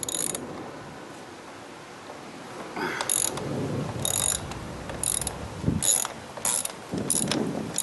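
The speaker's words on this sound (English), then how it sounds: "wrench is turning the right way, okay?" A wrench ratchets on the rear-wheel bolts of a Chinese scooter, giving several short bursts of clicking and clanking metal close up, spaced irregularly with pauses between turns.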